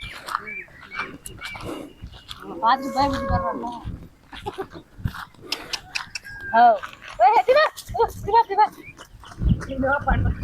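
A cow on farmland lets out moo-like calls among voices talking and shouting nearby, the animal sounds short and close.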